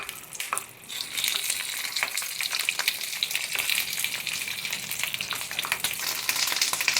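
Pieces of capsicum (shimla mirch) frying in hot oil in a pan over medium heat, giving a steady, dense sizzle with crackling pops, close and fairly loud throughout with no talk.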